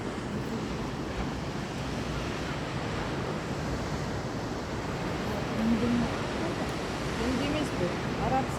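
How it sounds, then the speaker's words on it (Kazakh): Steady surf and ocean wind roar on the Arabian Sea, with waves washing in continuously at moderate loudness and faint gusts of wind across the microphone. "Теңіз, арабский мұхит."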